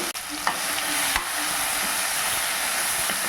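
Ground paste sautéing with mustard seeds in a pan for a green gram pepper rice, giving a steady close sizzle and frying hiss with a few faint stirring scrapes.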